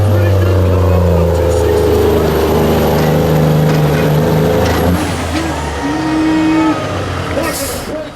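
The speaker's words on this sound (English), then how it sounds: "Boy, that tractor's got some serious power as he comes down the track." A pulling tractor accelerates down a truck pull track at a county event, with a loud, sustained, roaring engine note that rises and shifts. An announcer talks over the noise.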